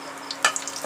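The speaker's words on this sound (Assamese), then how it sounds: "মাছ ফ্ৰাই কৰি ৰৈ যোৱা তেলখিনিতে এতিয়া আমি ইয়াতে কালজিৰা কেইটা দি দিছোঁ তেজপাত খিলাও দি দিছোঁ আৰু লং ইলাচি কেইটাও দি দিছোঁ" Nigella seeds, bay leaves, cloves and cardamom sizzle in oil left over from frying fish for a coconut-milk fish curry, a short soft hiss with a sharp crackle partway through.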